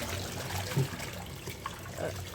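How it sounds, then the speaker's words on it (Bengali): Water runs and splashes over cut Malabar spinach leaves being washed, a continuous close trickling and sloshing with small bubbling bursts. "প্রথমে পুঁইশাকগুলোকে কেটে ভালোভাবে ধুয়ে নিতে হবে।"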